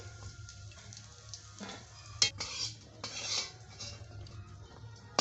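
Fried raisins being lifted out of ghee in a pan, with scattered metal spoon scrapes and clinks against the pan over a low background hum, a few sharper knocks standing out.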